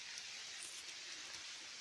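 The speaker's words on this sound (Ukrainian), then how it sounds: "Ох, дощ." Steady rain falls through a forest, a dense, even hiss that holds without a break for under two seconds, with no voices.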